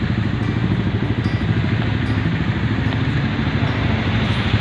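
A motorcycle climbs toward Gunung Jerai, its engine a steady, close, loud drone with a rough rhythmic pulse that runs without a break.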